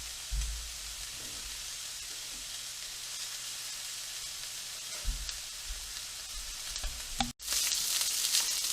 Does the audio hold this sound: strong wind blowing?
no